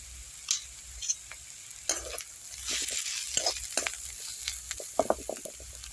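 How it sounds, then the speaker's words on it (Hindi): Spice masala lightly frying in a pan for patties, with a steady close sizzle and repeated scraping stirs of a spoon at an uneven rhythm, no talk. "ये दोनों मसाला डालने के बाद अब इसे भी हल्की सी फ्राई हम कर लेंगे।"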